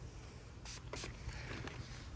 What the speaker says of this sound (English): I'm going to peel a little and then spray